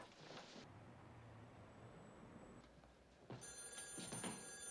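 A telephone bell rings in an indoor scene, a faint trilling ring that cuts in near the end over a low background hum, with no voices.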